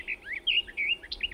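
A warbler sings from a reed bed by a river in summer, a short run of bright, high chirping phrases repeated in quick succession, close and clear.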